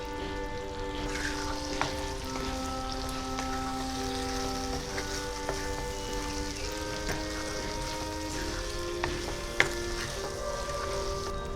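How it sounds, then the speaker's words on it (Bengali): Ground spices and chilli powder fry in hot oil for a Bengali catfish curry cooked in an open-air kitchen, a steady close sizzle with occasional stirring clicks and small spits running throughout. "মশলাটা খুব ভালো করে কষিয়ে নেব।"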